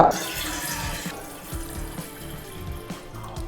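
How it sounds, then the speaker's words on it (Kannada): Water poured into a vessel while making South Indian filter coffee, a steady splashing trickle with small gurgling variations throughout, close and alone without talk. "ಅರ್ಧ ನೀರು ಮೊದಲು ಹಾಕ್ಕೊಂಡು ಅದನ್ನು ಕುದಿಸ್ಕೊಂಡು ಹಾಕೋಣ"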